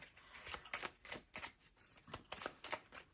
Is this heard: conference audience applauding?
no